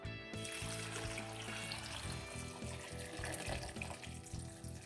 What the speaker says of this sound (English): I've got approximately a gallon of water that I'm putting on top of it.